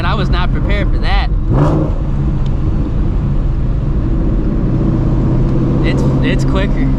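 A supercharged Shelby GT350 pulls at full throttle through second gear with a loud, sustained, close engine roar, and excited voices break in briefly near the start and end.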